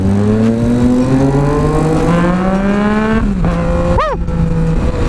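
A loud Yamaha Tracer 900 crossplane three-cylinder engine revs, its pitch climbing steadily before dropping off, then a quick sharp blip of the throttle follows.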